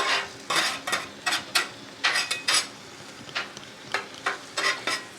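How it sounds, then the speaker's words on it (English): Chili meat stirred and sizzling on a flat griddle for chili cheese dogs, with repeated scraping and clinking spatula strokes in an uneven rhythm over a steady close frying hiss, no talk. "we're going to just mix this all together now and let it all kind of cook up together"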